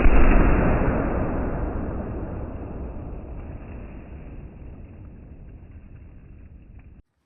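A single loud shot from a .450 Bushmaster rifle fired at water jugs outdoors, a sharp heavy boom whose rumbling tail fades slowly over several seconds.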